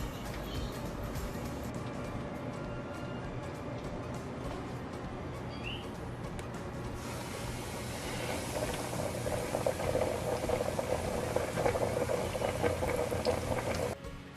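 Chicken sizzling in hot oil during its first fry, a steady broadband crackle and hiss that swells louder and brighter partway through, with faint voice traces in the background.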